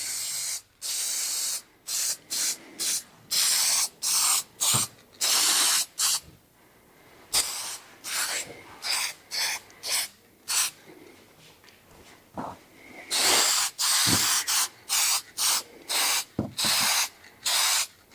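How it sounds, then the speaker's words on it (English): An aerosol can sprays lacquer finish coats onto a wooden pen display stand in a workshop, a series of about twenty sharp, close hissing bursts of varying length separated by short pauses, with no talking. "I'm going to hit this with a couple coats of lacquer."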